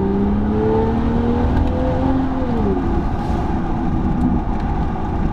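V12 BMW 7 Series accelerating hard in second gear, a loud continuous engine whir climbing in pitch then easing as it shifts, heard from inside the cabin without any talking.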